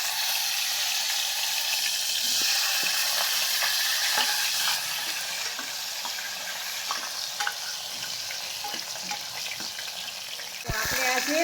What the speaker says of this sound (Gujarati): સૌથી પહેલાં આપણે બટેટાને વઘારશું